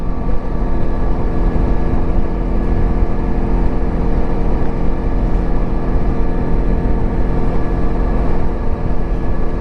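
Lifan KPT 400cc dual-sport motorcycle cruising along an open road, a steady loud engine drone with constant wind rush filling the whole stretch and no talking.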